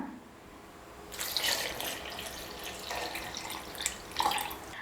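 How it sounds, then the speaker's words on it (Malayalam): Half a litre of milk poured into a mixer jar holding mango for a fruit sherbet, a steady close splashing stream that swells and pulses for a few seconds with no talking. "ഞാനിപ്പോൾ ഒരു 1/2 ലിറ്റർ പാൽ എടുത്തിട്ടുണ്ട്. അതുകൂടി നമുക്കിതിലേക്ക് ചേർക്കാം."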